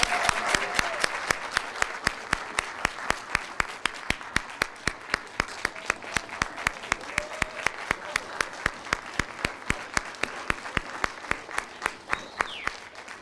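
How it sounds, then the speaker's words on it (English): Audience applause at a Project Search intern graduation ceremony in Norfolk, a steady run of many hands clapping with sharp regular claps standing out, sustained throughout at moderate level with faint murmuring underneath. "Let's give them a round of applause."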